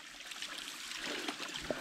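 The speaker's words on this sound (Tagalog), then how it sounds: "Yan yung bukal." Water from a natural spring trickling and gurgling steadily at close range, a continuous soft splashing flow with no voices over it.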